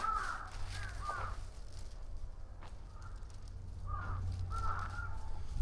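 A large raven at Osaka Castle in Japan caws in several hoarse calls, a pair of croaks early, a lone one mid-way, then two more, heard at moderate distance over a low outdoor rumble.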